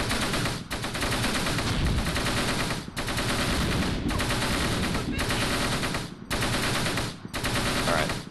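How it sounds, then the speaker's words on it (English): Machine gun fire in the Close Combat World War II strategy game, set near Caen, long loud sustained bursts of rapid gunfire broken by brief pauses. "More machine gun."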